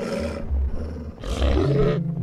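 A wolf in the survival game The Wild Eight gives two deep, rough growling roars in quick succession, loud and close, the second rising at the end.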